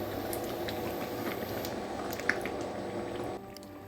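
Chicken kosha curry gravy bubbles on a high flame in a pan, a soft continuous simmer with scattered wet pops and squishy stirring sounds, faint and close.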